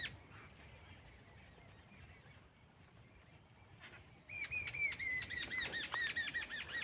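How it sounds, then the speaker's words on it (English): Many birds chirp and squawk among dense forest bushes, a faint busy chorus that swells into loud, rapid, repeated calls close by. "So here you can see lots of birds."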